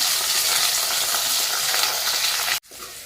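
Curry leaves and green chillies hit hot oil in a pan for coconut pickle, a loud, dense crackling sizzle up close that stops abruptly near the end.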